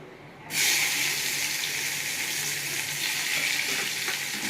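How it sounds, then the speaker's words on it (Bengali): Loud, steady sizzling of onions dropped into hot oil starts abruptly and keeps crackling evenly throughout. "আমার ভাজা ভাজা হয়ে গেছে ফোড়নটা, এবার আমি পেঁয়াজ দেবো।"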